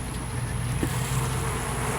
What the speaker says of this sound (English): Quite a few bees on that.